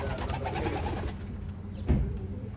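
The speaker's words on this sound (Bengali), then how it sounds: "এগুলি সব স্পেশাল ভ্যারাইটি সব কবুতর" Special exotic-variety pigeons coo in soft, low, repeated throaty calls over steady background noise, close by, with no talk.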